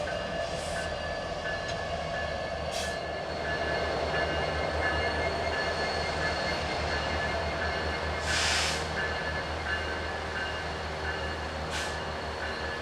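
A Canadian National EMD SD70M-2 locomotive rated at 4,300 horsepower works steadily while switching and running on the mainline. Its engine drone holds constant, with occasional brief hissing bursts and no talk.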